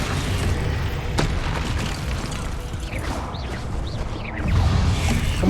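A Bombarda explosion spell from Hogwarts Legacy booms loudly and continuously in game combat, with crackling whooshes layered over heavy rumbling and a swelling blast near the end.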